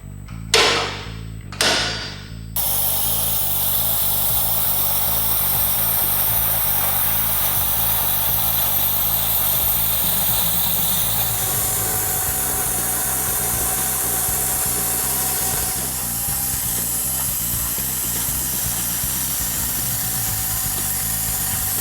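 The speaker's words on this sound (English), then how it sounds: "we'll start welding them in" Welding fabricated metal cutouts into Jeep wheel tubs in a garage gives a loud, steady buzzing crackle that runs almost continuously for about twenty seconds, after a few short sharp bursts at the start.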